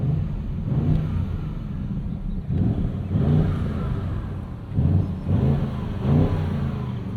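The twin-turbo V8 of a 2024 Audi RS7 Performance revs in several repeated bursts against a soft limiter, rumbling low and throaty between blips, close and fairly loud.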